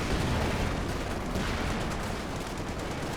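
Dense, continuous battlefield roar from Company of Heroes 2: Panzerschreck rocket fire mixed with heavy gunfire and explosions, loud and unbroken throughout with no voices.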